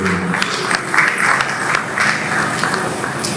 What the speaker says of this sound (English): So please, a round of applause for Two Things Promotion